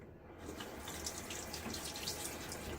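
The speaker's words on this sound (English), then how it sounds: "let me pour out the bloom water" Hot soak water from a shaving soap puck is poured off into a sink, a steady trickling, splashing stream running continuously and close by.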